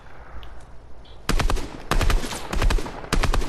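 Rapid gunfire in a shooter video game, several sharp bursts of automatic shots in quick clusters after a quiet opening, loud and close with no voices.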